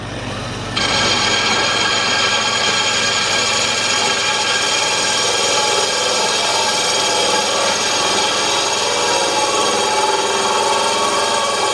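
A power tool bit grinds a groove through a painted surface while a betta fish tank is being prepared, a loud, steady, high-pitched whine that starts abruptly and runs without a break, close by.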